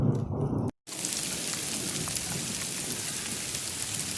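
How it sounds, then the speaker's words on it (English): Hail falling outdoors during a storm, a dense steady hiss of icy pellets striking surfaces, loud and continuous after a brief cutout near the start. "It's actually hailing."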